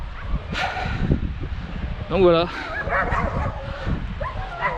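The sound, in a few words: dogs barking at a campsite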